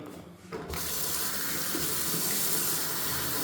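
Water runs from a kitchen tap in a small flat, starting after a brief quiet moment and then gushing in a steady, close, full rush.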